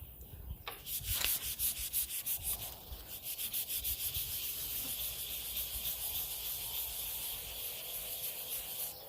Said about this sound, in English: we'll just do a quick wet sand over the entire top